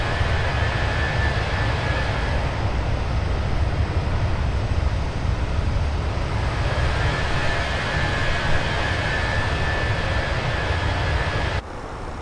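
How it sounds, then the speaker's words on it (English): Steady broadband cabin roar of a large airliner cruising between Atlanta and New York, a constant loud rumble with a faint high whine that fades and returns, ending in a slight drop in level. "Big plane."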